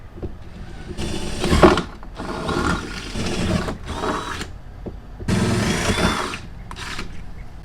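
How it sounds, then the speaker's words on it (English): An electric drill with a 7/32 bit whirs in several bursts separated by brief pauses, each run starting and stopping abruptly, close and fairly loud, enlarging holes while installing RV entry stairs. "switch out for my nice big bit, which the instructions state to use a 7/32 drill bit"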